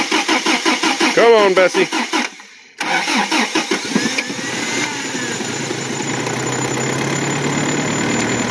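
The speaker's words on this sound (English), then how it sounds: "there you go, remote start for a 22R" A Toyota 22R carbureted pickup engine, fitted with remote start and suffering float-level trouble, cranks with rhythmic starter pulses, briefly cuts out, then catches and settles into a steady close idle; a voice talks over the cranking.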